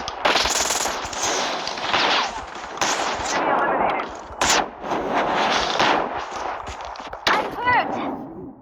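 Heavy automatic gunfire in Call of Duty Mobile, with dense, continuous rattling bursts and sharp individual shots that carry on loudly almost without pause, and faint game sounds mixed in.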